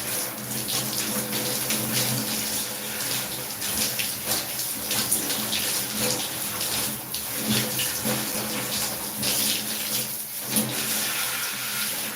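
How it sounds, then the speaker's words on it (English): Water runs steadily from a tap while someone rinses off, a continuous loud splashing rush with slight fluctuations and no talking. "I'm gonna rinse off"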